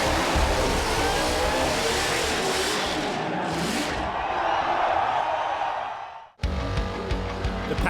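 A burnout car at the Perth Motorplex roars at a sustained high rev with a dense tire-smoke skid noise and crowd wash, dips briefly, then the engine note returns sharply.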